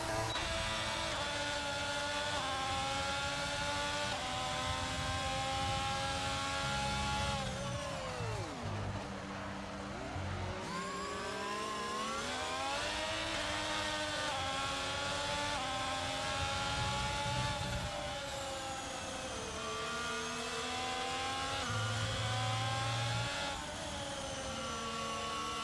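Race car engines roar through an Austrian Grand Prix in a racing video game, revving high and then dropping sharply as the throttle lifts before braking. Pitch climbs again on acceleration, loud and continuous, with the note shifting steadily over nearly half a minute.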